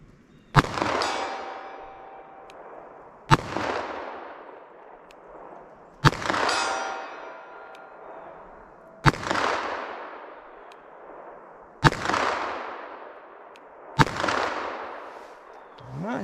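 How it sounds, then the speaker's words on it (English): Six loud .38 Special revolver shots from a 686 fired at a target 75 yards out, evenly spaced a few seconds apart, each a sharp crack followed by a long ringing decay across an open range. "let's see how my 38 special and my 686 does at 75 yards"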